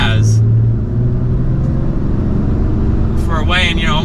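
A RAM 3500 Limited MegaCab pickup, nearly 7,000 pounds and unladen, hums and rumbles steadily from inside the cab as it accelerates up to speed, with someone talking over the engine noise.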